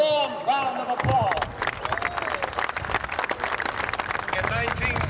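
A large crowd at the Million Man March rally breaks into a warm round of applause, a dense wash of clapping and cheering voices that follows a speaker's amplified words and carries on steadily.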